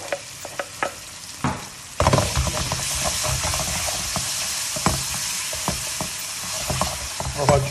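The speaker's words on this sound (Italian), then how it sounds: "Faccio soffriggere aglio e cipolla" Garlic and onion sauté alongside salmon in a hot pan, opening with scattered stirring clicks before a loud, steady sizzle takes over with spatula scrapes throughout.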